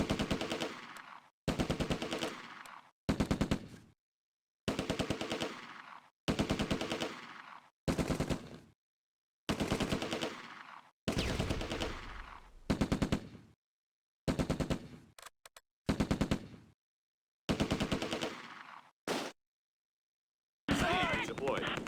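Repeated bursts of machine gun fire in the WWII tactics game Close Combat: A Bridge Too Far, set on the Schijndel road during Operation Market Garden, with about a dozen loud, sharply separated volleys broken by brief silences.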